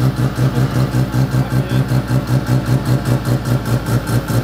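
A red Mazda RX-7 FD with a bridgeported rotary engine running steadily at idle, its loud, choppy pulsing exhaust throbbing in an even rapid rhythm, heard close up.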